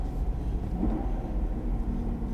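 A Chevrolet SS with a manual gearbox driving along, a steady low engine drone and road rumble filling the cabin, continuous and fairly loud with no break.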